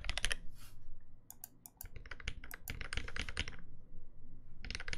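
Rapid, uneven keystrokes clatter on a Cherry MX Black mechanical keyboard, loud and close, in bursts separated by short pauses.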